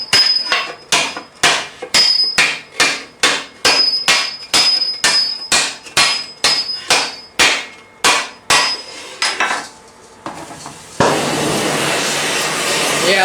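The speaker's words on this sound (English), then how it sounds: "like beating on metal with a hammer" Steady hammer blows ring out on metal while a steel sallet helmet is raised, about two per second with a bright clang, slowing and stopping, followed by a hissing rush of air.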